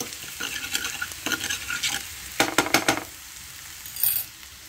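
Chopped mushrooms fry in a pan for a cheese omelette, sizzling steadily as a spatula scrapes and taps repeatedly, with a quick flurry of scrapes near the middle and a brief clink toward the end.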